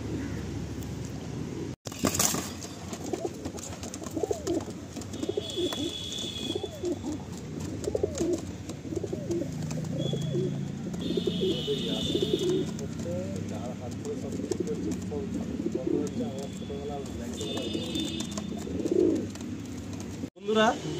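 Madrasi pigeons coo repeatedly in a loft, steady murmuring calls running throughout alongside people talking nearby, with brief higher chirps now and then.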